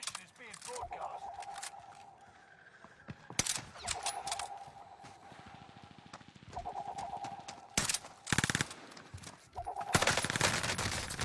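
Video game gunfire rings out in rapid bursts and single shots between quieter stretches, with repeated electronic tones and player voices talking over the action.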